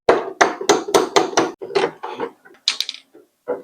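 A palm pounds a wooden bunk bed during assembly, a rapid series of hollow, dull thumps, about eight in quick rhythm, then a few scattered knocks, close up and fairly loud.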